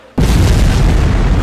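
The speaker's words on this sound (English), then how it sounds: "Let's see how big this explosion is, though." A nuclear bomb goes off in Garry's Mod: after a brief quiet moment, a huge booming blast bursts in and holds as a dense, loud, rumbling roar to the end, with no talk.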